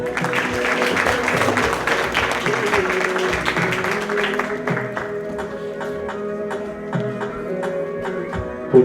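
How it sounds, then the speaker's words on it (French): Audience clapping at a high school graduation ceremony in Basse-Terre, strong at first and then thinning into scattered claps, with steady tonal music or a hum underneath. "Alors, les applaudissements fort."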